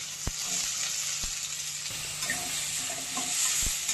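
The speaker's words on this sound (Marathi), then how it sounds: "तेल टाकून घेऊयात आता ह्याच्यामध्ये आळं आणि लसूण किसून घेतलेली ती टाकून घ्यायचे आणि लगेचच त्याच्यामध्ये मी कांदा टाकून घेते" Grated ginger and garlic with onion sizzle in hot oil for veg hakka noodles, a steady close hiss punctuated by a few sharp knocks of the spoon against the pan, with no talking.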